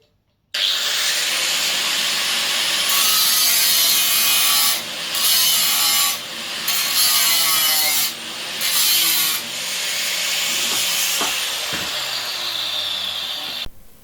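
Hand saw cutting through a ventilation pipe for a home-built fireplace chimney, a steady loud rasping of back-and-forth strokes with a few brief pauses, close up and without talk.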